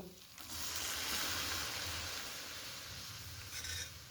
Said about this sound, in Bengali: ডালটা দিয়ে মশলার সঙ্গে খুব ভালো করে মিশিয়ে নিতে হবে